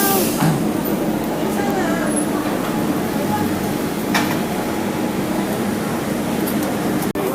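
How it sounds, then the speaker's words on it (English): Steady rumble and hiss of a train at Guangzhou railway station, a continuous loud interior drone with faint squeals and thin background voices. "We're on the Guangzhou railway station on our way to Macau."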